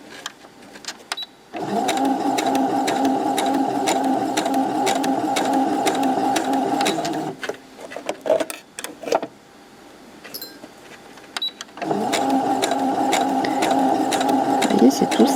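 A sewing machine stitching fabric for a small pouch runs in two long, steady buzzing bursts with a pause between them, close and clear, with faint handling clicks during the break.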